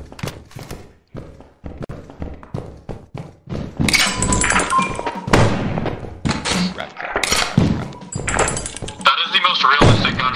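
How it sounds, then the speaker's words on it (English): Several sharp, loud gunshots crack in Lethal Company gameplay amid thumps and clatter, with a voice talking over the action. "That is the most realistic gunshot I've ever heard of."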